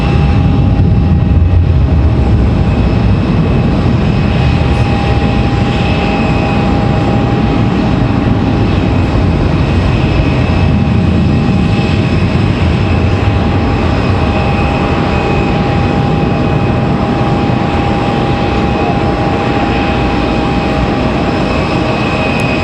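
WestJet airliner departing Raleigh-Durham airport, a long, continuous jet engine roar with a steady whining tone, loud and unbroken for the whole stretch, no talking.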